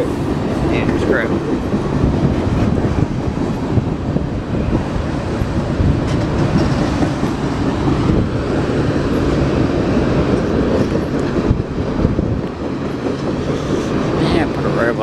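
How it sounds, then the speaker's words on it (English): The first train of the day passes close by in cold, nearly frozen weather, a loud continuous rumble with clattering wheels on the rails lasting throughout. "First train of the day, we get 63V."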